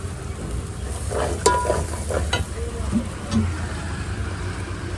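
Potato pieces being stir-fried in a pan at home, with scattered stirring scrapes and light sizzling over a steady low background hum, no one speaking.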